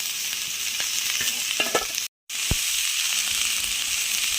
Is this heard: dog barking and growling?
no